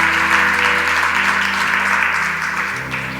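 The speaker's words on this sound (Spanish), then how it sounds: "Denle un aplauso" A church congregation breaks into sustained applause, a dense wash of clapping that stays loud and steady throughout, with a low musical hum and a faint voice underneath.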